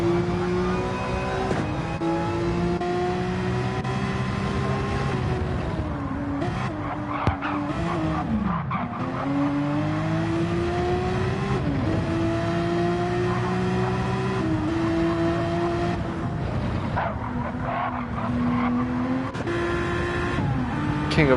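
Race cars in a sim-racing eDTM Gr3 event at Catalunya roar off the grid together, a dense, loud, continuous wall of engines with rising pitch as they accelerate, tire squeal and skidding layered throughout, with no talk.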